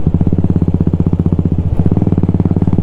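A BS6 Royal Enfield Classic 350 motorcycle engine runs close by with a steady, rapid throbbing pulse and slight vibration, a continuous low rumble as the bike is ridden.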